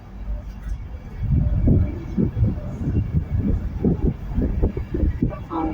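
An Intercity 225 train bound for Leeds rumbles along a station platform, a low rolling rattle of wheels and carriages building and continuing steadily at moderate distance.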